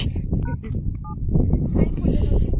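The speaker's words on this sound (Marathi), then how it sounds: "इथे मोबाईलचा बटन का कशी दाबतो का सारखी सारखी." A mobile phone keypad gives a few short, separate electronic beeps as buttons are pressed, heard close by amid outdoor wind noise and nearby conversation.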